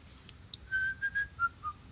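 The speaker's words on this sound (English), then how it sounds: "when you whistle, it does this strange audio thing." A short whistled melody of several sustained, warbling notes, thin and slightly processed, preceded by a couple of faint clicks.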